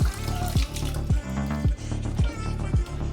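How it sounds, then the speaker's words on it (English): Water runs from a tap onto cabbage being washed, a steady close splashing with a soft rhythmic knock repeating under it and no one talking. "Give the cabbage a proper wash off."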